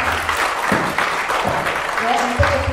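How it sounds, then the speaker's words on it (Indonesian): An audience claps in sustained applause for three speakers at an architecture talk, a dense steady patter with a voice speaking over it. "Kita berikan tepuk tangan"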